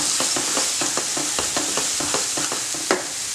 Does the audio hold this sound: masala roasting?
yes